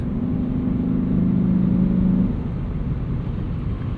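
A 2024 Lexus IS 500 sport sedan's 472 hp V8 drones steadily from inside the cabin, a low rumbling engine tone that holds through the first half and then eases slightly, with no talk.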